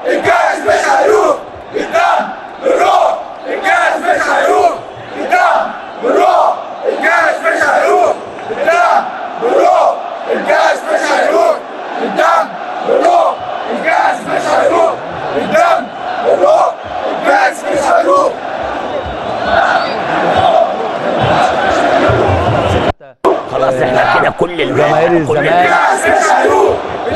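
A large stadium crowd of Al Ain fans chants and roars rhythmically in support of Al Ahly, loud massed voices rising and falling in repeated chant phrases, with a brief dropout near the end.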